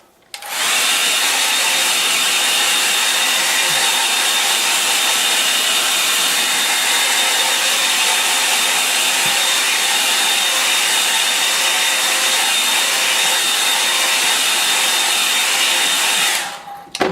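A hair dryer blows steadily and loudly onto a wet watercolour painting of a Welsh mountain scene, a constant broadband whoosh that switches on, runs alone for about sixteen seconds, then cuts off.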